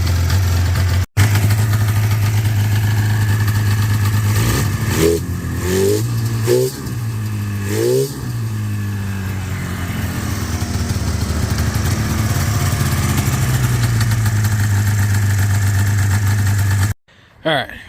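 A Polaris Indy 650 snowmobile engine idles in a steady two-stroke drone, with a few short blips of throttle midway before it settles back to idle and then cuts off near the end.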